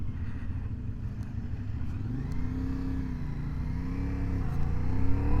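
A CFMOTO 450SS sport motorcycle engine running with a low, steady drone and rising harmonic bands as revs climb, close and continuous, growing slightly louder toward the end, with no talk.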